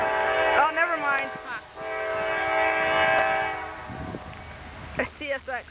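A Union Pacific rock train's air horn at Springfield, Illinois blasts in long sustained chords across most of the stretch, with shorter bursts near the end and people talking nearby.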